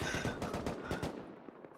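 Automatic machine-gun bursts strafe against walls in the survival game Rust during a clan battle, rapid repeated cracks in a dense stream that thins out near the end, with no voices.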